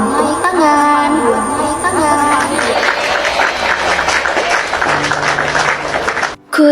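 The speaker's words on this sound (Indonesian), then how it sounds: "Tepuk tangan." A crowd at a stage event breaks into applause after a sung tune, with clapping and cheering building in and filling the rest of the clip before a brief dip near the end.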